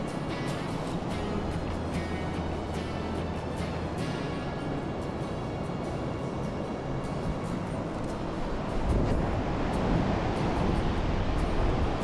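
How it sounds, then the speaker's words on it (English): Wind gusting at the water's edge during a fishing trip, a loud steady rush with buffeting across the microphone that swells near the end, no talking. "It's windy today."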